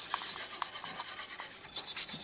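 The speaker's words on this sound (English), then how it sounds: "Just get a wire whisk." A wire whisk scrapes and stirs a flour roux in a pan, giving a steady raspy rubbing with a few sharper metallic ticks, close and moderately quiet with no talking.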